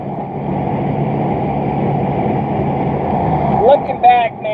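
An International truck drives with a steady low engine rumble and road noise throughout, rising briefly near the end where a voice cuts in over it.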